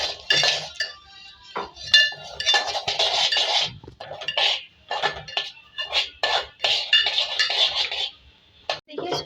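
Semolina roasts in a pan under continual stirring, making dry, bright scraping and clinking of a spoon against metal in irregular bursts with short pauses, close and fairly loud, with no talking.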